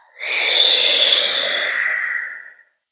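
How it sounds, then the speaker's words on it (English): One long, deep breath during qigong practice, breathy and airy, rising quickly and holding steady for about two seconds before cutting off, close and clear with no talking. "Inhale and exhale."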